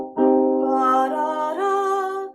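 Chords sound on an electronic keyboard: a sustained minor triad builds up, then a second, higher voicing follows. The tones are warm, organ-like and held, at moderate volume with no speech over them.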